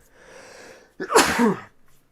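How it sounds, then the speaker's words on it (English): A single loud, close sneeze bursts out after a brief faint breathy lead-in, then trails off into quiet. "that sneeze was for you"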